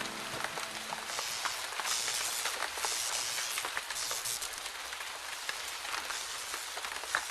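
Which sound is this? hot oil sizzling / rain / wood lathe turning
rain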